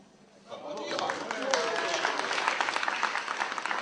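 A choir audience breaks into steady applause that starts suddenly and continues evenly, a dense wash of clapping hands.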